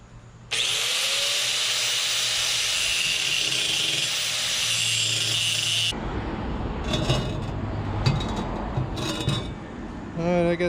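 A power saw cuts through the steel exhaust pipe of an LS-swapped square-body truck, a loud, steady shriek lasting about five seconds, followed by clanking, scraping handling noises and softer intermittent cutting.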